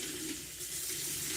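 Water running and swishing as dry pinto beans are rinsed in the pot of an 8-quart Instant Pot, a steady close splashing wash with no talk.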